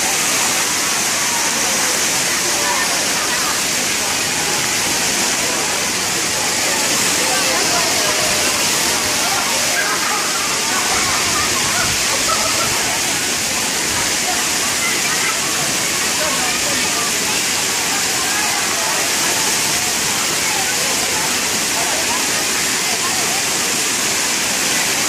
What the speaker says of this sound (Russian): Здесь вот такой пиратский душ будет из бочки прямо.